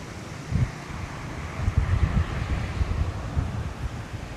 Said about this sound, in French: Par contre, il y a là le vent.